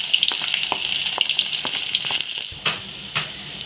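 Dried chillies and garlic paste fry in a hot pan with a bright, crackling sizzle, with sharp pops and spits that thin out toward the end.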